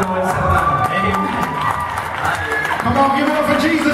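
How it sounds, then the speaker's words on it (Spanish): A church congregation at a youth sectional service applauds and cheers, with steady clapping and shouts filling the room while a preacher speaks over the crowd. "Dale un aplauso al Señor"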